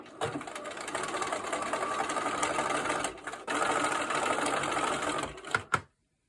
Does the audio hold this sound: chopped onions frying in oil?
no